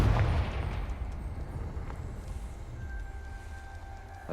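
A Confringo explosion spell goes off in Hogwarts Legacy as a loud, rumbling blast that opens with a heavy low thump and then rolls on as a sustained, fading roar.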